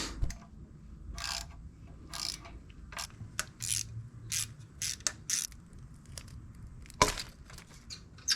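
A ratchet wrench clicks in short, uneven bursts while loosening 10mm bolts on a Nissan RB25DET engine, close and fairly quiet, with pauses between the bursts.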